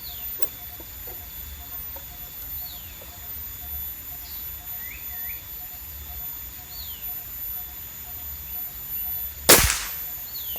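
Black Lava air rifle fired outdoors during an accuracy test: a single sharp, loud crack near the end, with birds chirping softly in the background beforehand.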